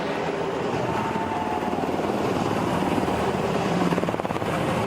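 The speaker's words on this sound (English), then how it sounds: "There's the 38th Combat Aviation Brigade, UH-60 and Blackhawks." UH-60 Black Hawk helicopters of the 38th Combat Aviation Brigade fly over the Indianapolis 500 in a loud, sustained rotor thump and turbine drone, with steady blade chop throughout and no talking.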